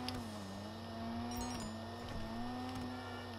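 A Toyota Supra in Grand Theft Auto V hums with a steady, fairly quiet engine drone, its pitch wavering slightly, with a few faint crackling exhaust pops near the middle.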